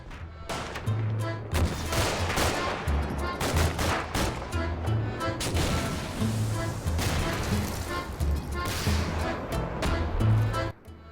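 A sustained video game campaign firefight unfolds as an enemy quick reaction force meets friendly troops at an extraction point, with dense overlapping rifle and automatic gunfire and bursts of heavy shots, loud and continuous.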